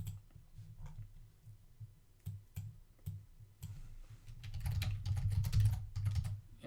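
Computer keyboard typing with scattered mouse clicks at a desk, a steady run of light tapping keystrokes that grows busier and louder toward the end, close and with no voices.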